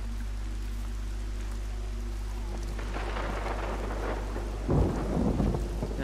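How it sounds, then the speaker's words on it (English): Thunder rumbles through a rainy storm in the video game Everybody's Gone To The Rapture, a low steady roll building to a louder, closer crack near the end, with rain falling throughout. "it sounds like I'm gonna get a storm too"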